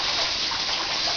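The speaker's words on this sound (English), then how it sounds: "The one thing that does work is the fact that there is a cold water shower in here" Cold creek water gushes steadily from a shower at the Champion Mine's Black Eagle Camp, a dense, continuous broadband rush with no pauses, loud and close throughout.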